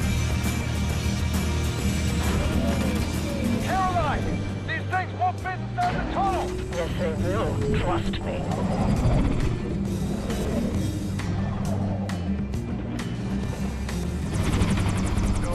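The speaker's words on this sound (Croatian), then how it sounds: "Pa, uzeli smo helikopteriće." Helicopters whir and rumble in the video game Wolfenstein: The New Order, a steady rotor drone mixed with engine noise and other effects, while voices talk over it throughout.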